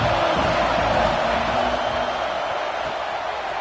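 Stadium crowd at a football game, a steady broad roar of many voices holding at a loud, even level throughout with no single voice standing out.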